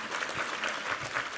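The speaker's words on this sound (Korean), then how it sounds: "우리 하나님께 감사와 영광의 박수 올려드리겠습니다" Church congregation clapping at a Sunday worship service, a brief steady patter of many hands at moderate level with no voices over it.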